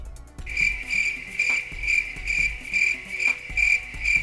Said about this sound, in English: you will literally hear crickets.